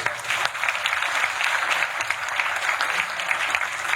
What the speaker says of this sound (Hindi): एक दफा भरपूर तालियां।